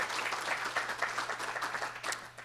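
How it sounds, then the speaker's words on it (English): A conference audience applauds steadily, dense clapping spread across a hall, moderately loud with no voices over it. "let us give him a round of applause for all he's done"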